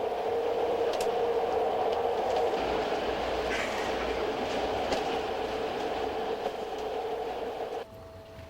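A subway train runs through a tunnel, heard from inside the car as a steady loud rumble with a sustained metallic whine and faint rhythmic clacks, continuing until the sound drops off near the end.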